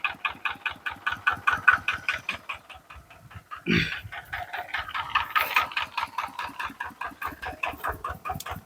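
A farm tractor's engine chugs with a steady, close knocking rhythm while it strains to drag a heavy pile of wood held by rope; a brief louder burst breaks in midway, and no one speaks.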